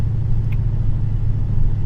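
A 426 Hemi engine with a Whipple supercharger idles nearby, a loud, steady low rumble with a lumpy, even throb throughout.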